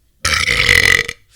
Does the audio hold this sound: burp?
yes